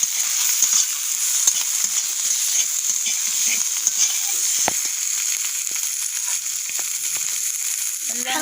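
Chopped tomato frying with ginger paste in a pan gives a constant bright sizzle with scattered stirring clicks and scrapes and a sharp knock midway, close and fairly loud.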